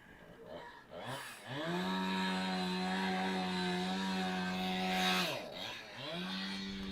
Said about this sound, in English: I guess the chainsaw is just across the street.